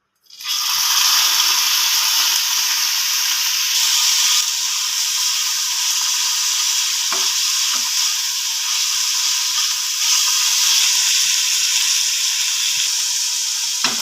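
Shrimp sizzle in hot white oil in a wok, a steady loud crackling fry that runs continuously with occasional faint clinks of utensils, no voices.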